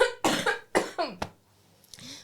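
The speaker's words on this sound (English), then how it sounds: "Can I cough really quickly?" A few sharp coughs in quick succession, close and loud, followed by a short quieter throat sound.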